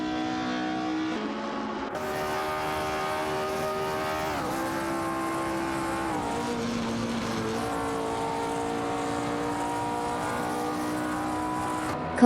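Engines of racing cars in a video game roar at high speed down a straight, a steady, loud, continuous whine whose pitch shifts gently as the cars hold close together, with no talking.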